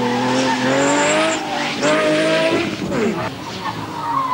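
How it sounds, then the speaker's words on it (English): Lamborghini Murcielago lapping the tight Autodromo race track, its engine loud and close, pitch rising and falling through gear changes with tire squeal as it corners, heard alone without talk. "the Murcielago circles the course in quite a good-natured way."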